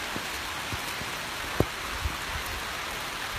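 Steady rain pours onto a road between Madikeri and Sullia, a continuous close hiss with a few soft drop knocks, no voices.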